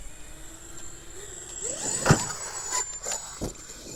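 A Traxxas X-Maxx RC truck with Vitavon 1.5 mod gears and an Integy heavy-duty center drive shaft whines up as it speeds toward a ramp, then a loud thump as it hits, with lighter knocks afterward.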